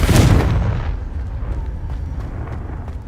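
A Confringo blasting spell detonates in Hogwarts Legacy, a loud deep boom at the start that rolls off into a long low rumble with faint crackles trailing behind.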